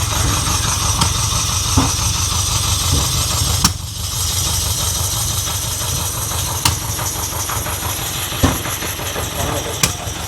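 A 1979 Ferrari 308 engine runs roughly on choke, spitting back through both rear carburetors and refusing throttle; a steady close rumble with hiss, broken by sharp pops and coughs at irregular intervals.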